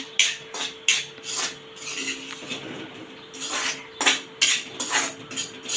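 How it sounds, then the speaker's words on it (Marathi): Fine semolina roasting in a pan for sweet shira, stirred with a utensil that gives repeated scraping, clinking strokes in an uneven rhythm, close and moderately loud, with no voices. "रवा छान असा भाजून घ्या।"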